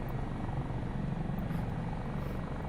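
A helicopter in Microsoft Flight Simulator 2024 drones with a steady, loud rotor and engine roar that fills the whole stretch evenly, with no talk over it.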